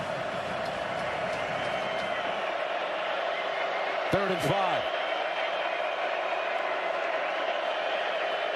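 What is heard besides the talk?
stadium crowd noise at Texas Tech vs Utah football game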